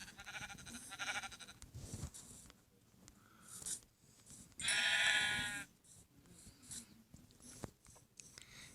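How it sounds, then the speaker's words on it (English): Sheep bleating in a game, a few short calls with one loud, clear bleat near the middle against quiet background noise. "Hello, sheep."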